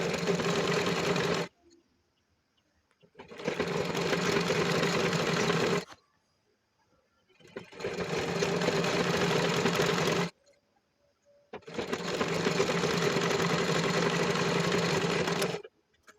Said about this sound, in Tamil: இப்போ கீழேயும் நம்ம இடுப்பு பகுதியிலையும் இதே மாதிரி ஒரு படிமான தையல் போட்டுக்கோங்க.